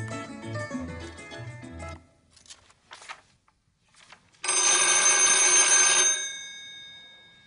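A telephone rings loudly and close, one long, bright electronic burst after a stretch of music and faint shuffling sounds.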